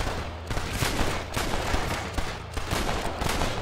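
Rapid, loud gunfire from the Red Dead Redemption video game rattles in close, overlapping volleys, with dense bursts of shots firing almost continuously and no talking.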